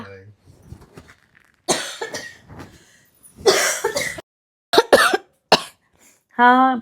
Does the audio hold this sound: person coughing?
yes